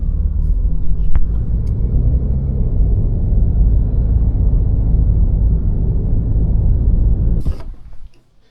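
Cars rolling past at a car show with Ferraris and BMWs on display, a steady loud road rumble held for several seconds before cutting off abruptly near the end.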